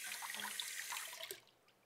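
Tap water running over juicer parts as they are rinsed in a sink, a soft, steady splashing stream that tapers off near the end, quiet and close.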